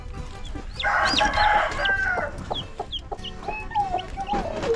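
Chickens, including a mother hen with newly hatched chicks, cluck and squawk close by, with a loud drawn-out crow-like call early on followed by scattered clucks and chirps.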